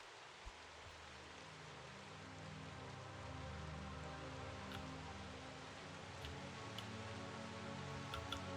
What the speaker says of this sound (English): Looks like it's about to start raining over here.